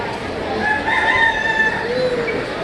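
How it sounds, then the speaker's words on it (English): Chickens and a rooster in a poultry barn at a county fair, with overlapping clucks and drawn-out crowing calls against a busy, reverberant background of birds, fairly close and steady throughout. "There's lots of chickens in here."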